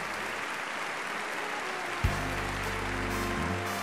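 Steady, dense applause from a large audience fills the hall at a national sports awards ceremony, continuing throughout as music swells in partway through.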